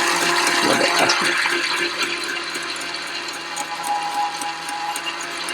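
TSPROF Kadet Pro sharpener running at low speed while polishing a leather tool, a steady whirring drone with faint metallic ticking and scraping, loud and close, easing slightly after the first two seconds.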